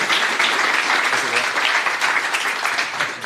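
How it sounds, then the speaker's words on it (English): An audience at a startup talk claps in a continuous, full burst of applause, with a voice faintly present underneath, tapering slightly at the close. "Let's have a round of applause."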